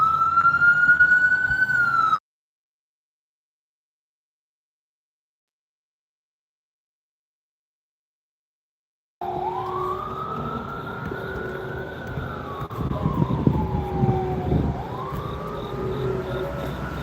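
Emergency vehicle sirens pass outside a turkey slaughterhouse, first a brief wail that cuts off, then after a long silence a loud sweeping siren rises and falls over rumbling traffic.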